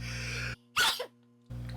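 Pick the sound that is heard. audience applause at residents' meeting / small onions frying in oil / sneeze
sneeze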